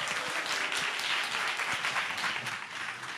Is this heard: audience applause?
yes